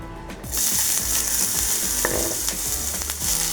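Chopped onions fry in hot oil on a flat iron griddle while browning for a masala, giving a steady, close sizzle with small crackles and scraping clicks throughout, no voices.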